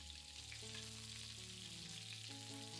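Curry leaves, sliced shallots, dried red chillies and mustard seeds fry in oil for a tomato curry tempering, giving a faint, steady sizzle beneath a low continuous tonal hum.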